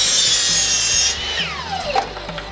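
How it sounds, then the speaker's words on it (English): A chop saw slices a wooden board at a 45-degree angle for a farmhouse table, a loud close whine that ends the cut and then winds down with a falling pitch. "Zeb cut this board at a 45 on the chop saw"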